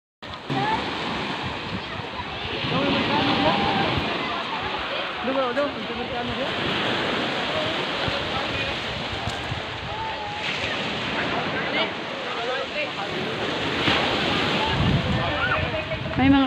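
Sea surf rolls against a beach, a constant broad rush of waves and wind buffeting the microphone, with people talking over the water throughout.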